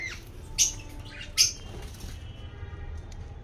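Lovebirds and other pet birds fighting, giving two sharp, faint squawks about a second apart amid quiet background, with a few softer chirps after.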